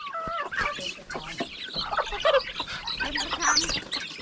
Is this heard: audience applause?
no